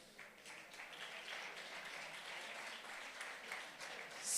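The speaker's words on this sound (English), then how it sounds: "Please, applause for them." An audience at a tech talk applauds, steady clapping from many hands at moderate distance, fairly soft and sustained throughout.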